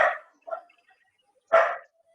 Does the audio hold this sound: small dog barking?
yes